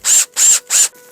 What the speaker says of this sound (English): drilling things with screws